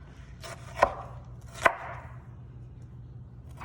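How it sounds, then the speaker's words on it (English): Two crisp knife chops through tomatoes on a cutting board, close and distinct, followed by quiet room noise. "make sure you sharpen your knife before you start chopping."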